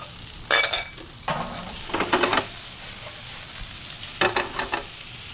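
Mushrooms sautéing with shallots and sliced garlic give off a steady sizzle, broken by several loud bursts of spoon-stirring and scraping in the pan.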